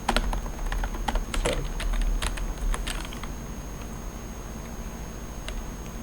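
Quick bursts of keystrokes from a computer keyboard while CSS code is typed, close and distinct, with irregular pauses over a steady low hum and no talking.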